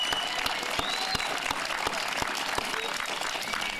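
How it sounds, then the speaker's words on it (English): An audience at Camp Green Meadows' 50th anniversary celebration applauds high school students, with a steady patter of clapping and a few sharp individual claps standing out, moderately distant. "So let's give a large round of applause to the high school students who are here."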